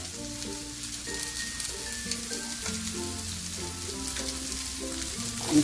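Steady frying sizzle of potatoes with turmeric in a pan, with occasional stirring scrapes, close and continuous, no voices.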